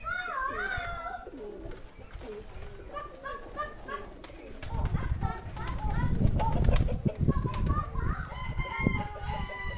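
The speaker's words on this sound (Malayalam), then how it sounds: "പലതരത്തിലുള്ള പ്രാവുകളുണ്ട്, നല്ല വെളുത്ത സുന്ദരി പ്രാവാണ്" White pigeons and other birds at a farm house in the Nelliampathy forest; soft cooing and chirping calls repeat over a steady bed of background noise, with a rooster-like crow and clucking mixed in, moderately near.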